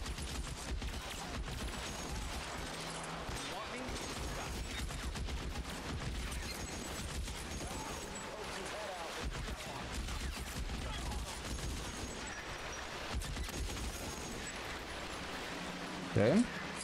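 Gunfire from the video game L.A. Noire: bursts of shots in a continuous gunfight, with someone talking over the top almost the whole time.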